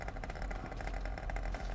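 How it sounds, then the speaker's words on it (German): A scooter engine left running, a close, steady idling rumble with a rapid mechanical clatter throughout and no talk. "Motor ist noch an."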